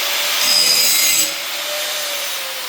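A 4-1/2 inch hand grinder beveling 2 inch steel box tubing, a bright, hissing grind that is loudest for the first second or so, then continues a little softer, with no talk.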